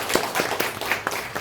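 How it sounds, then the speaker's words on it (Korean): An audience at a community urban-regeneration lecture in Gumi applauds to welcome the lecturer: quick, dense, fairly soft hand clapping from many people with no speech. "뜨거운 박수 한번 부탁드리겠습니다"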